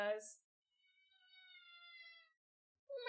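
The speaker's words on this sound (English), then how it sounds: "Yeah, that was my cat." A pet cat gives one drawn-out, tonal meow, fairly faint and alone between bursts of nearby talk.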